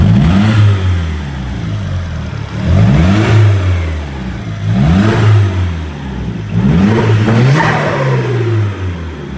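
A VW Scirocco Mk2 with a 1.8T 20v engine in a rear-wheel-drive build revs up close by, with four loud, rising blips that each fall back toward idle.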